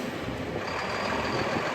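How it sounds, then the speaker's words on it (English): A truck eases into a downtown Erie construction job site at Flagship City Commons, its engine and broadband traffic rumble steady and fairly loud, with a faint high reversing-style tone running through, no talk. "as this truck is moving into the job site of Flagship City Commons"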